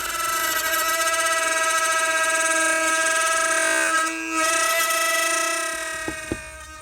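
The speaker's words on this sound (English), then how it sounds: "I had to cut out a pretty good chunk of this air box to let these intercooler tubes come through" A power tool cutting into a plastic air box on a supercharged Ford F-150 truck, a loud sustained high whine with steady harmonic tones that dips briefly, then a few sharp knocks as it winds down.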